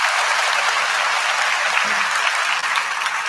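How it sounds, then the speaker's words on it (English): Steady audience applause fills the whole stretch, a dense, even wash of many hands clapping at close range with no pauses and no talk over it. "Give a round of applause."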